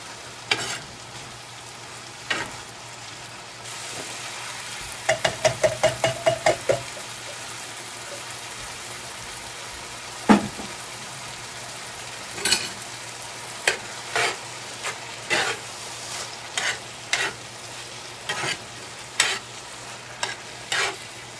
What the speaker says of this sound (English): It's simmering really nicely right now, so next what we're going to do is add in our can of Rotel.